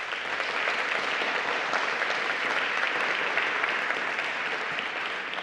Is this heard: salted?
no